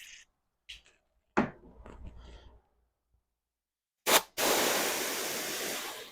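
A few short clicks and taps, then a steady hissing mist from a Suzuki LTR 450 fuel injector starts abruptly and continues, loud and close.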